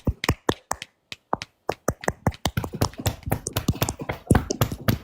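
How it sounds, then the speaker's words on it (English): Hands pound on a chest in a fast run of sharp, close thumps, uneven in rhythm and growing denser and louder toward the end, with no voices. "This pounding of the chest."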